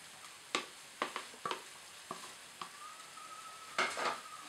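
Onion sauce sizzles and fries in a hot greased pan for sweet and sour prawns, with sharp scraping stirs every second or so and a steady crackling hiss underneath, near and fairly quiet.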